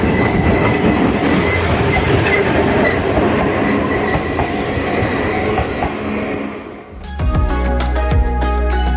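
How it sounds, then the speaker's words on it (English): A tram in Kamakura rolls past close by with a loud, dense rumble and clatter of wheels on rails, then shifts into a harsher metallic ringing tone near the end. "The tram's coming again."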